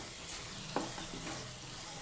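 Ginger, garlic and coriander powder sizzle steadily in a hot pan while being fried for a peas pulao, a soft continuous crackle with a few light stirring scrapes.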